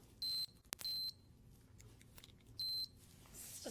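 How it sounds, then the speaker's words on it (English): Three bursts of high, piercing electronic beeping from a small watch alarm, each about a quarter second long and loud and close, with a faint click between. "that little tiny speaker in there that's making the beep makes sure it's heard"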